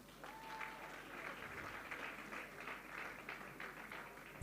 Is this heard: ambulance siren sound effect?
no